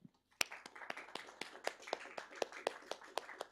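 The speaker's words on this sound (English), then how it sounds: "I think it's completely deserved that we give you a round of applause" A small group claps for a speaker at a Wikidata lab session, with sparse distinct hand claps in a quiet room, fairly faint and irregular, no voices over it.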